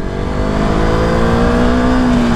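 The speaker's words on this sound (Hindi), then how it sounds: "चलो अब चलाते हैं RC 200।" Engine of a KTM RC 200 sport motorcycle being ridden on the road, a loud, close buzzing drone that climbs steadily in pitch as the bike accelerates through the gear.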